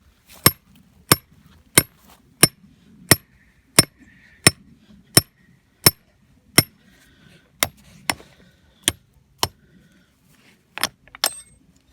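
A swivel stake for a coyote trap is tapped into the ground on public land, about sixteen sharp metallic strikes at a steady, even pace, close and distinct over quiet outdoor background.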